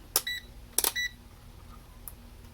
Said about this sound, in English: So I'm going to use my meter with continuity to figure out